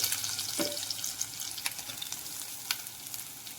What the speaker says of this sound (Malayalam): ഇനി ഇതിലേക്ക് ഞാൻ നാളികേരം ചതച്ചതാണ് ചേർത്ത് കൊടുക്കുന്നത്.